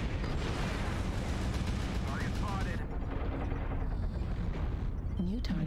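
An artillery strike in MechWarrior Online, heard as continuous dense booming and rumbling with rapid cannon fire and a voice talking throughout.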